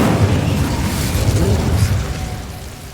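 An Incendio fire spell cast in Hogwarts Legacy, a loud, close whooshing burst of flame with a rumbling low roar that swells and then fades over about three seconds.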